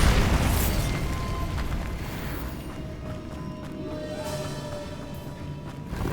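Bombarda blasting spell explodes in the Hogwarts Legacy video game, a loud booming blast right at the start that decays into a long rumbling, debris-filled tail, fading but sustained throughout.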